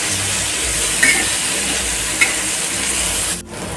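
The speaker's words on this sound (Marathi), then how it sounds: "4 ते 5 मिनिटं या मिरच्या भाजून घेऊया।" Green chillies roasting with salt in a pan, a steady soft sizzle with occasional scraping stirs, close and moderately loud, and a brief dip in the sound near the end.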